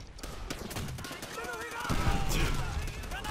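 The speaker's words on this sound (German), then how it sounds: "Das war eine Granate, Junge." Gunfire bursts and a grenade blast in the Call of Duty World at War video game, rapid shots crackling close, then a heavier thump, with players talking over the action.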